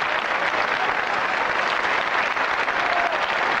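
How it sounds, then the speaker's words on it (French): Sustained applause from a TV studio audience on a French game show as a contestant claps for himself, dense and steady throughout. "Il s'applaudit lui-même."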